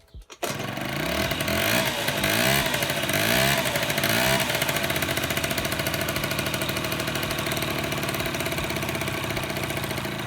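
A scooter engine with worn pistons, run on vegetable oil instead of motor oil, idles loudly and close by with a buzzing, slightly uneven rhythm after starting.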